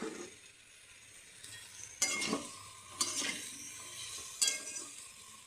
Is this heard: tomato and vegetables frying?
yes